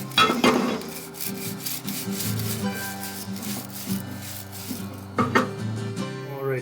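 Vise parts are scrubbed by hand at a parts washer with a broken pump, giving continuous rough rubbing and rasping strokes with occasional louder knocks and scrapes, close up and with no talking.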